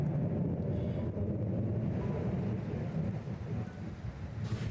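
Thunder rumbling outdoors just before rain, a deep, continuous low roll with wind-like hiss, fairly steady and slightly fading toward the end.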